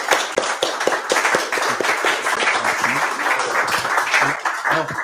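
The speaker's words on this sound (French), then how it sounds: "je crois qu'on peut applaudir Malik Arhal déjà" An audience at a book talk applauds historian Malika Rahal, a dense, sustained burst of many hands clapping together, fairly loud, with a few voices faintly mixed in.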